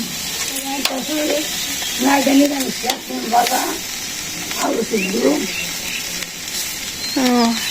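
Beans sizzle in a pan over a village kitchen fire, a steady frying hiss with stirring scrapes, while voices talk intermittently nearby.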